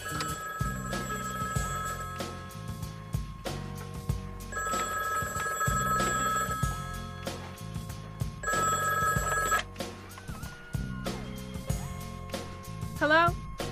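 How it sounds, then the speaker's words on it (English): A telephone rings repeatedly in bursts over a looping music track with a heavy beat, while people talk now and then. "Answer the phone."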